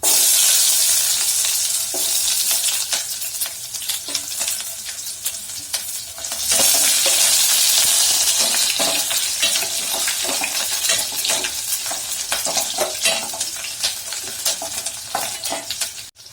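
Chillies and onions sizzle and fry steadily in a pan while being stirred, a loud close crackling hiss with frequent scraping stir strokes, no talk, for pudina chutney.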